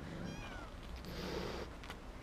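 Angry cat meowing with a drawn-out, strained cry, followed by hissy caterwauling, close and loud in a room.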